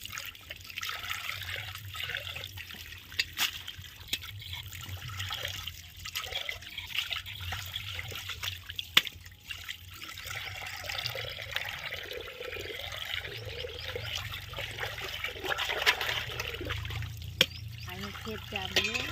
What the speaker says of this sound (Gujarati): હા ચકલી આટલો પાણી આવે